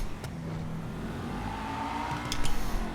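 A Rapid GT sports car engine in the video game GTA 5 drones steadily at speed through a tunnel with a low, reverberant rumble, swelling briefly toward the end as it revs.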